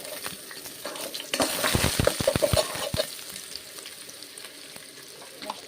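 Onions and chillies hit hot ghee with a loud burst of frying that crackles, spits and settles into a steady sizzle, with a few clinks of a utensil against the pan.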